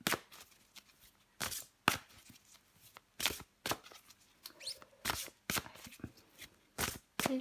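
Tarot cards are shuffled in a series of quick, crisp riffling bursts separated by short pauses, close and fairly quiet, with faint handling sounds between.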